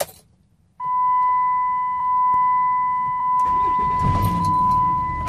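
A 2007 Dodge Ram 3500HD pickup truck gives a steady electronic chime, then its engine cranks and catches into a loud, rumbling idle while the chime continues.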